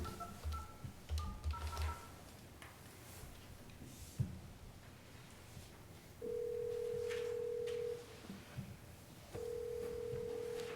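A telephone call is placed through a speakerphone at a township board of trustees meeting: a quick series of DTMF dialing tones, then a steady ringback tone that sounds twice in long stretches, with no talk.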